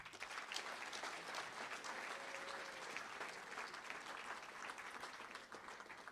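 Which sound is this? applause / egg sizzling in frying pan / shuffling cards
applause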